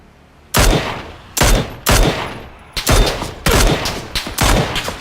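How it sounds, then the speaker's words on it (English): Gunshots ring out up the road in a video game, about six loud broadband cracks with reverberant tails spaced roughly a second apart, each burst dense and sharp with no voices over them. "I hear more shots up the road."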